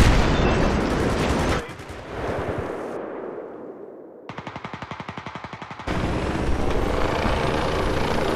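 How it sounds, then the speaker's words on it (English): Battlefield 3 combat on Xbox Live: a loud helicopter rotor drone mixed with bursts of rapid machine-gun fire, a brief lull, then a fast rattling volley and a wall of continuous gunfire and explosion noise to the end. "Enemy helicopter. We're getting hit bad."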